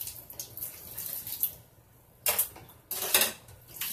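An open kitchen tap runs quietly, with uneven gushes and splashes of water rising and falling in short bursts.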